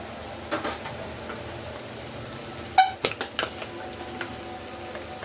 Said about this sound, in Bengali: আমি 2 মিনিট একটু ভেজে নিচ্ছি।